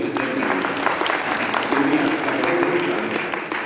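Clapping applause from an audience at a Brahma Kumaris spiritual gathering, a dense, continuous round of many hands throughout, with faint voices underneath.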